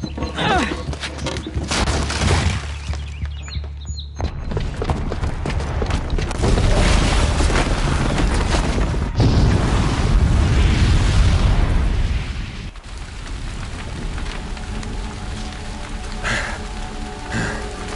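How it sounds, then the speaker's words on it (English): A booby-trapped bomb goes off in a video game: a loud sustained roaring blast with rumbling debris and crackle lasting several seconds, then settling into a lower rumbling tail. "the booby trap on the bomb downstairs is gonna get set off"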